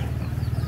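A large turkey making a rapid gobbling, clucking call, close and fairly loud, a brief burst of repeated pulses without any talk.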